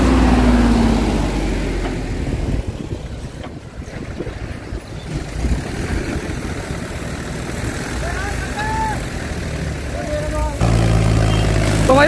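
A farm tractor engine roars steadily under heavy load during a tractor strength contest, a loud low rumble mixed with wind buffeting, and voices talking over it throughout.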